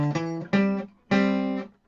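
Electric guitar plays a short fragment of a riff, three sustained picked phrases with a hammer-on, close and clean, alone without talk.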